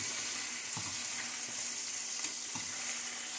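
Chicken pieces sizzle and fry steadily in a pan while browning for Bisaya-style chicken adobo, a continuous close crackle with a few soft stirring scrapes and no talk.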